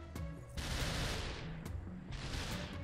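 Enemy gunfire in the Superhot video game, a gangster pulling up and firing: dense bursts of shots build into two sustained loud volleys, with sharp individual cracks before and between them.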